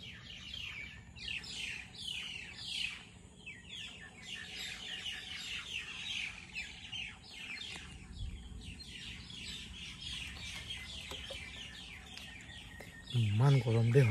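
Many birds chirp and call densely at dusk in a jungle near a tree house, a continuous chorus of tweets with some deeper clucking fowl, and a voice speaking briefly at the end.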